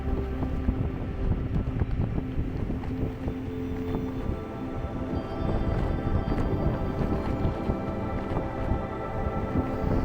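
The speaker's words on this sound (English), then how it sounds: "So as you can see, it's still really windy." Strong stormy wind buffets the microphone on a stretch of the Portuguese Camino walk, a loud, continuous rumbling roar that gusts unevenly throughout with no voices.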